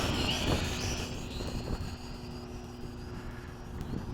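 An MJX X600 quadcopter drone flies with a steady, whirring high-pitched propeller buzz that slowly fades and swells while holding nearby, with no talk over it.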